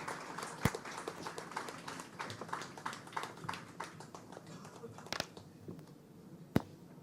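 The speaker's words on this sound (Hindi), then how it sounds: "और इसी के साथ एक बार जोरदार तालियां" An audience at the inauguration of Jaipur airport's Terminal 1 applauds in a fairly faint, sustained patter of many hands, with a few sharper, louder claps standing out.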